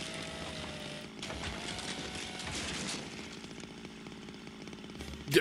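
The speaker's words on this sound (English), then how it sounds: "take your time sawing the whole sofa" Chainsaw in a video game cutting through a sofa: a steady, buzzing engine drone that runs for several seconds, rising and dipping a little, with a sharp knock near the end and no voices.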